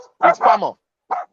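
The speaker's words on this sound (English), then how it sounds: "Sorry about the dog barking." A dog barks nearby in a home during a live football preview show: a quick pair of loud, yelping barks followed by a single shorter one, mixed in with a voice.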